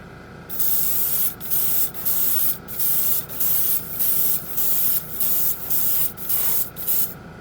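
A Swallowtail airbrush sprays a final coat of Splash chrome paint over light chrome in about ten short, even hissing bursts with brief pauses between, close and steady.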